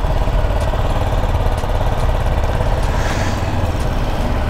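A brand-new motorcycle engine idles close by with a steady, loud, rapid chugging putter, unbroken throughout and with no voices over it.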